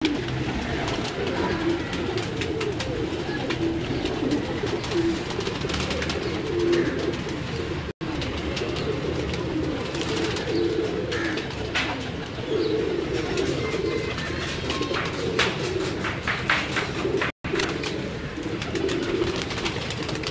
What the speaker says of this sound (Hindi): ये कुछ पुराने कबूतर हैं जो कि सीज़न में उड़े हुए हैं।